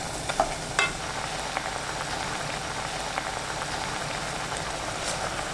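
Cod simmering in a pot with a little water over high heat while preparing seaweed soup, a soft steady bubbling hiss with a couple of faint clinks early on.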